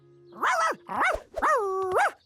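A cartoon dog in an animated Curious George episode gives three quick, voiced barks and yelps in close succession. They are loud, close and clear, with no talk over them.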